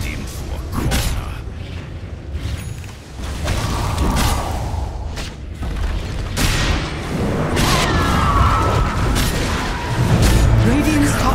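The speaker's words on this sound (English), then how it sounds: "Radiant's top tower is falling." A tower comes under attack in a Dota 2 match, with dense, loud booms, thuds and whooshing spell impacts layered in continuous battle noise, with voices speaking over it.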